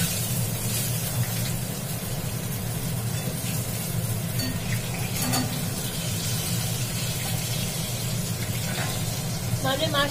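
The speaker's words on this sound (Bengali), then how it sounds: "আর আমি এখন মাছ ভাজছি" Fish pieces fry in a pan with a continuous moderate sizzle and crackle, joined by a few sharper spits and pops, while a voice talks over it at times.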